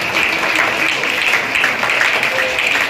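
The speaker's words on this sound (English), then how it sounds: "Please give him a round of applause." A school audience claps for a prize winner at National Mathematics Day celebrations, a loud, dense, continuous wash of many hands that runs throughout with no speech on top.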